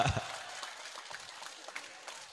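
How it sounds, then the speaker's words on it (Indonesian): Audience clapping at an Islamic religious gathering, a moderate scattered applause that fades gradually over a couple of seconds, with no speech over it. "Tepuk tangan dong buat bapak-bapak"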